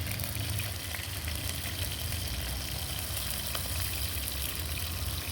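Green chillies frying in oil in a pan give a steady, dense sizzle that holds evenly throughout at moderate loudness, with no talk over it.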